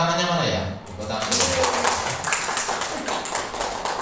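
A classroom group claps hands during a game, a dense patter of many claps, fairly close, with a voice speaking at the start.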